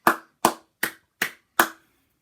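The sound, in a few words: applause at a school assembly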